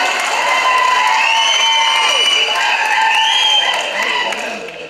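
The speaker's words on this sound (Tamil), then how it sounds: "ஒரு பெரிய கைத்தட்டல் கொடுக்கலாமா the entire teamக்காக?" A large crowd at a film pre-release event claps, cheers and shouts loudly for the entire film team, sustained and tapering off at the end.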